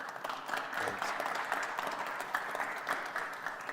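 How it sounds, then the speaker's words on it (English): Audience applause for Dr. Moser after a talk at an Air and Space Day event, a dense steady clatter of many hands clapping together that carries on evenly throughout. "Round of applause for Dr. Moser, please"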